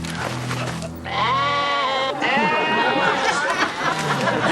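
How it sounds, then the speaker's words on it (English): Several sheep bleat loudly and close by, overlapping wavering cries with a soft murmur of voices around them. "They're sheep."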